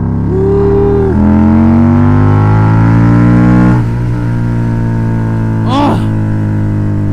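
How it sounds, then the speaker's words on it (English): An Indian Scout Bobber motorcycle engine revs up close and loud at high RPM, its tone climbing and falling through several throttle blips over a steady idle rumble. "I love this motor. I love the high RPMs."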